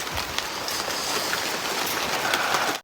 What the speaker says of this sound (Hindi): और तेज़ वाली बारिश लगना शुरू हो गई है।